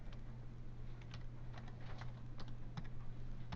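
Code is typed on a computer keyboard in quick, soft, irregular keystrokes over a steady background hum.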